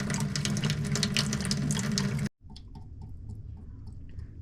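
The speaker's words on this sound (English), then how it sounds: "open the nearest faucet until flow stops to depressurize your plumbing" Water gushes from an open household faucet while plumbing is depressurized for a whole-house filter change, a loud steady rush that cuts off abruptly midway, leaving faint drips and small clatters.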